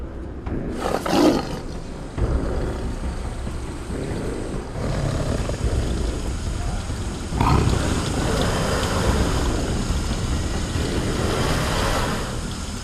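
A Siberian tiger in a zoo enclosure on a very hot day lets out loud, rough roars, one near the start and another about midway, over a constant background rumble.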